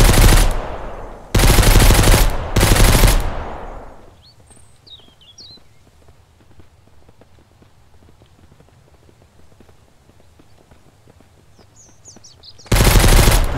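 Enemy gunfire in the Mist Survival video game: loud, sustained automatic bursts at the start, a long quiet stretch with faint ambient noise and small chirps, then another loud burst at the end.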